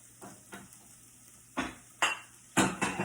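An oyster mushroom omelette scraped from a pan into a porcelain bowl, heard as a faint sizzle with a few soft scrapes followed by three or four sharper utensil knocks and clinks against cookware near the end.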